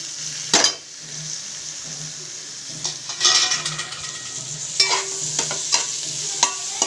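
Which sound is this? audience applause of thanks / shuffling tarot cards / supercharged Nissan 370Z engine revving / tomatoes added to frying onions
tomatoes added to frying onions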